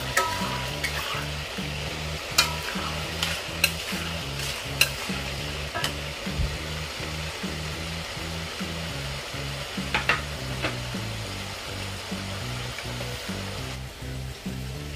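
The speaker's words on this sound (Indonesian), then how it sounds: "Kita goreng sampai kuning dan berkulit ya teman-teman." Potatoes frying in hot oil for Indonesian sambal goreng ati kentang, sizzling continuously while a utensil stirs them, with repeated sharp scraping clicks against the pan over the steady bubbling crackle.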